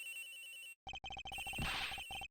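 A cell phone rings in the video game Ace Attorney Investigations, a clear electronic ringtone pulsing in short repeated bursts, up close with no talking over it.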